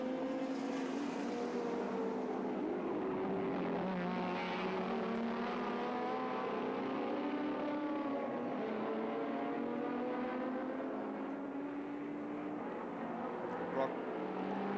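Touring car racing at Sandown in 1984, with engines droning steadily and rising and falling in pitch as cars pass on the circuit, under continuous commentary.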